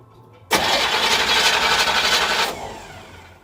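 A 1963 Chevrolet Impala engine cranks and catches, running loud and rough with heavy valvetrain chatter for about two seconds before settling lower, close to the listener.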